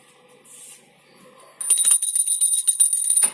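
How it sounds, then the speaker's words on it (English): A bright electric bell suddenly starts ringing and rattles continuously for nearly two seconds after a quiet stretch of faint background sounds, loud and close. "the bell rang"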